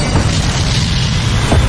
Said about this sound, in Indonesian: setelah diserang oleh ledakan bom mobil yang memakan banyak korban jiwa